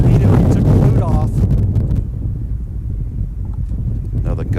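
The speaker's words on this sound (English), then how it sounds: "Another gust of wind blowing through." Gusty wind buffets the microphone at an outdoor women's amateur football match, a loud low rumble strongest in the opening seconds and easing to a steadier roar, with commentary speech running underneath.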